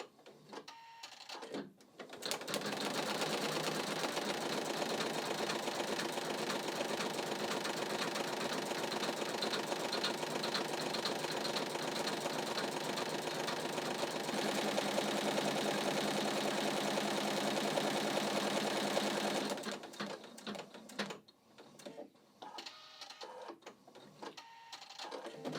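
An embroidery machine stitching a letter onto polar fleece, a steady rapid mechanical whirring and clatter running for about seventeen seconds before stopping, close and loud.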